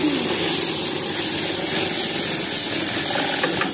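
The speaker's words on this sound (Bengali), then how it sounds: "এই যে আমাদের ব্যাগটি সেলাই করা শুরু হয়ে গেল, এ মাথা থেকে ও মাথায় বের হয়ে যাবে" A bag sewing machine stitches a feed bag shut, giving a loud, dense continuous mechanical whirr and hiss up close with a faint rattling texture across its whole length.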